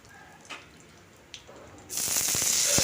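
Whole spices, a bay leaf and two dried chillies hit hot oil, starting with quiet scattered ticks and then bursting into a loud, steady crackling sizzle with sharp spits that runs on to the end.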